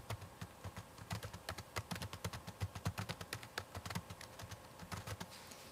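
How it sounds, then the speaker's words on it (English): Rapid keystrokes on a computer keyboard as days of the week are entered into an Excel list on a Mac, a steady close run of individual clicks with brief pauses between words. "type in the normal days of the week, Monday through Friday"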